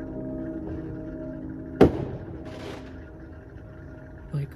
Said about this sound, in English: Someone shooting fireworks.